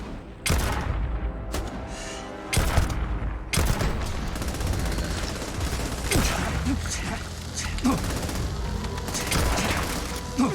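Gunfire in the Starfield video game, with sharp loud shots and bursts, some in rapid succession and others spaced by short pauses, under occasional talk.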